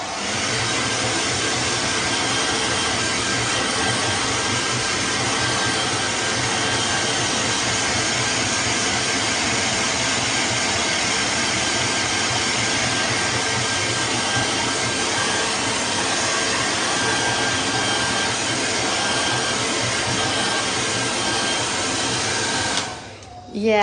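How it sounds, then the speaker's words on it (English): A hair dryer blows continuously to dry watercolor paint. The steady, loud whir holds for over twenty seconds and cuts off just at the end. "let's use our hair dryer again."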